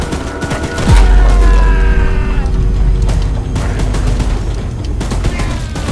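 Video game machine gun fire aimed at Choo Choo Charles, a loud rapid burst with a heavy low boom near the start, followed by continuous rattling fire and mechanical clatter.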